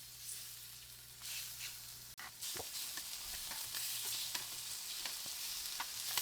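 Pieces of honey garlic chicken sear in hot oil in a pan, giving a steady, close sizzle with crackling pops and a brief clatter as the meat is moved, with no talking.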